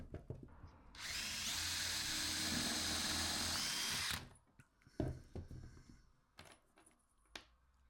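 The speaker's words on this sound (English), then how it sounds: "So now I'm just going in from screws from the back side" A power drill drives screws into the back of a wooden footstool under construction, a steady high whine lasting about three seconds, followed by a few short knocks and handling clatter. Nobody speaks.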